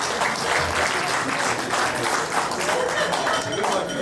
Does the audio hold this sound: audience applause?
yes